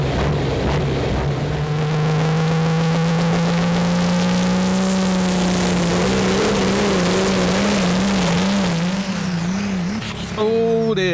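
The Blue Boss pulling tractor, powered by an 11-litre Scania engine, roars loudly and continuously at a tractor pulling championship round in Aars, its pitch climbing and wavering before an abrupt change at the very end.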